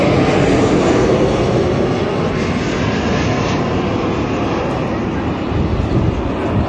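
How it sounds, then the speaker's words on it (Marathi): An airplane passes overhead with a loud, continuous broadband roar that holds steady through the whole stretch, while voices murmur faintly beneath it. "वो विमान है"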